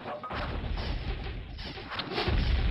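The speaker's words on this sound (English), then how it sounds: "Yeah, because I hear my own catapults." Catapults fire in the real-time strategy game Warcraft 2, heard as dense, continuous crashing and booming impacts with a heavier thump near the end, without talk.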